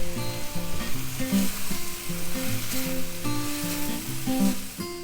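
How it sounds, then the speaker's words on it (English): Tofu scrambled and stirred in a frying pan gives off a steady, close sizzle that runs the whole time beneath melodic background music. "we're gonna scramble it on our pan"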